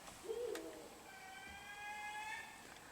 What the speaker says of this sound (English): It's a pair of barred owls